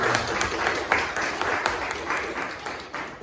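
A congregation at a Sunday worship service claps together in a steady, even rhythm of sharp beats at a brisk pace, moderately loud and continuing throughout.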